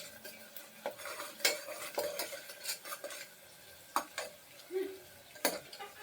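Fennel seeds and spices frying in oil for an egg biryani, a soft sizzle under frequent spatula scrapes and clinks against the pan in an irregular stirring rhythm.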